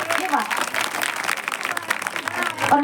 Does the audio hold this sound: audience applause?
yes